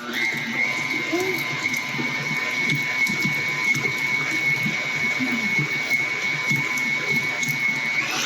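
An electric mixer creams cream cheese for a sweet potato cake, running as a steady whirring motor hum with a clattering, rhythmic churn throughout, close by.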